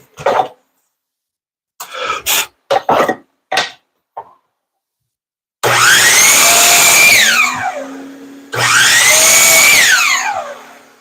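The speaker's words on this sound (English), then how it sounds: "All right, to the miter saw." Miter saw cutting wood for a recliner arm rest rebuild, preceded by a few short clunks and handling knocks, then two loud whining cuts of about three seconds each, close to the microphone.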